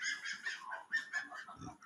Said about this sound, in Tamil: இந்த வெள்ளை வாத்து